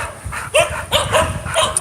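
A dog on a walk gives several short, close barks mixed with whimpering yips, coming in bursts separated by brief pauses.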